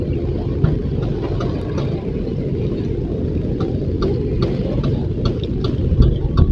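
A large boat's engine on the Pasig River gives off a loud, steady, low rumble mixed with broadband wind and water noise.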